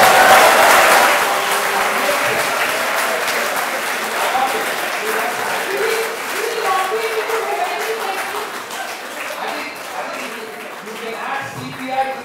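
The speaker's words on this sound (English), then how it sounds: "Another round of applause." Sustained applause from a lecture audience at an open university lecture, a dense, fairly loud patter of many hands that slowly fades, with some voices mixed in.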